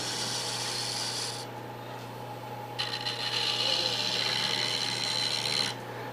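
Hand gouge taking small nibbling cuts in a wooden ornament, a faint dry scraping and rasping that pauses briefly, then resumes a little louder, close up over a steady low hum.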